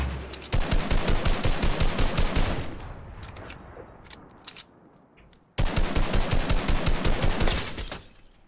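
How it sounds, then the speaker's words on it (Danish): Gunfire in Fortnite: two long, loud bursts of rapid automatic shots, close and crisp with fast regular rhythm, separated by a quieter stretch of scattered distant shots and clicks. "Jeg er ved at skyde på ham her, som du kæmper mod."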